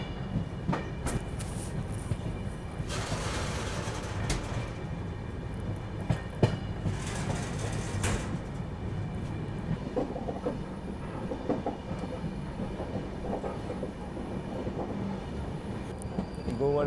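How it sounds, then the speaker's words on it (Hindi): Passenger express train running near Mathura toward Alvar, with continuous rumbling and rhythmic clickety-clack heard from on board, fairly faint, brief louder bursts of rushing noise, and some voices in the background. "फिलहाल अलवर की ओर हमारी ट्रेन अब यहाँ से बढ़ चुकी है।"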